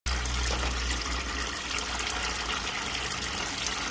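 Transmission fluid from the 6L80 pan of a 2011 Chevrolet Suburban 5.3L pours out in a steady, loud, close stream, a continuous gushing splash with no talk over it.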